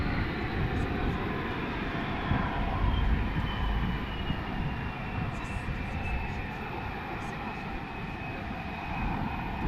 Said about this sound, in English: the LCH as it rapidly pulls up